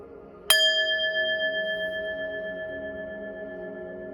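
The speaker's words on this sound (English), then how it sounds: "I'm going to ring this bell, clear your energy" A single bell struck once for clearing energy rings out clearly, its bright metallic tone sustaining and slowly fading over several seconds with no talking.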